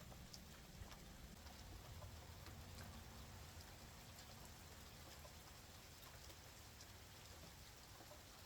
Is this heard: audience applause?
no